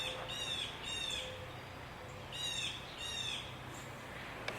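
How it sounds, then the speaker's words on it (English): A bird calls outdoors in repeated bursts of squawking chirps, two at a time with short pauses between, moderately close over a steady low background hiss. "That bird has a lot to say."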